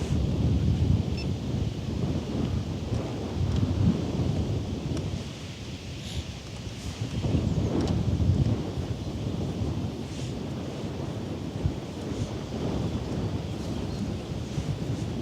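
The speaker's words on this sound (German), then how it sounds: "Aber der Wind ist schon biestig," Strong, gusty wind buffets the microphone at a harbour where container ships and a liner sail, a continuous loud rumbling roar that swells and eases with the gusts, with no voices.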